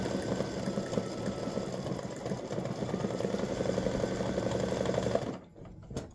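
An embroidery sewing machine stitches white thread on a patriotic star-and-stripes oval earring design. Its rapid, steady mechanical whirring hum runs for about five seconds and then stops abruptly, with no voices.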